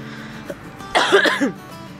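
A woman with a sore, irritated throat coughs once in a short, rough burst, close and fairly loud, with quiet room tone before and after.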